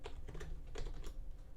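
Keys clatter on a computer keyboard in a lecture setting, a quick run of sharp clicks and taps at close range, uneven in rhythm, with no voices.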